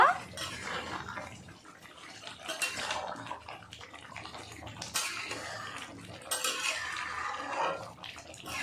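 Pointed gourd and mung dal stirred in a pan with ground cumin, giving close, irregular scraping and clinking of a spoon against metal in uneven bursts.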